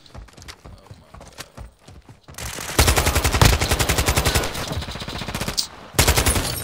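Video game AK assault rifle fire in Modern Warfare 2: loud rapid automatic bursts crackle in quick rhythmic strings, with a short pause before a final burst and quieter game sounds beforehand.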